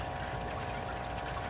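Water rushes steadily through a garden pond biofilter system, a constant close, full splashing flow with no pauses and no voices.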